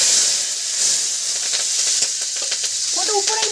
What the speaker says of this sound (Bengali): লঙ্কা এই যে লঙ্কা এখন দিয়ে দেবে তেলের মধ্যে